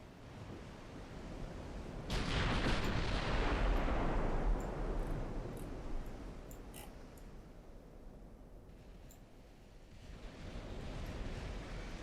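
Warship rear turrets firing in a naval battle game: a sudden heavy boom around two seconds in rolls into a long rumbling blast that fades, then a softer rumble builds toward the end.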